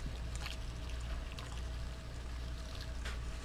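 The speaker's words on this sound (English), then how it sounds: "The more water you add, the creamier it gets." Water is poured into a bowl of mashed potatoes in a steady, continuous stream with a soft splashing trickle, close by and with no talk.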